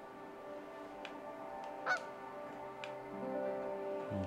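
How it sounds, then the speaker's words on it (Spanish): A flock of sparrows in the video game Dune Sea gives a few sparse, scattered calls, one sharper call standing out, over a steady low ambient drone. "Vale, nos encontramos con una manada de gorriones."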